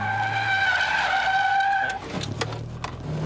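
A car drifting on a dry surface, its tires squealing with a loud, sustained high-pitched screech for about two seconds, then giving way to engine rumble and a few short chirps.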